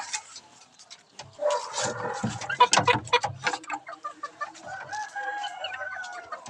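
Roosters crow and hens cluck in a backyard flock, close and fairly loud, with overlapping calls that trail off into softer clucks and no talking.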